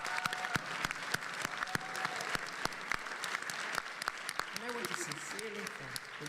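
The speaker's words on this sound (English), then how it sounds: "Let's give them all a warm round of applause." Audience applause at a PAX East 2020 panel: a steady wash of clapping from a seated crowd, with sharp individual claps standing out, and a voice briefly heard underneath near the end.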